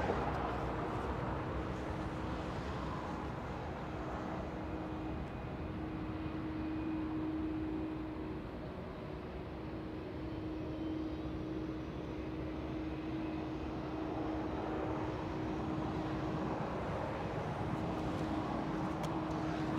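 A seven-year-old Boeing 737 bound for Toronto departs LAX runway 25 right, a steady, moderately distant jet-engine roar that holds a faint droning tone and swells and eases gently throughout.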